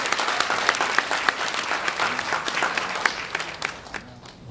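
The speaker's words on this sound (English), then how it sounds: "Let us give us another round of applause to Gracias Choir." A large audience at a Bible seminar in Sydney gives a sustained round of applause for a choir, many hands clapping steadily close by, thinning and fading at the end.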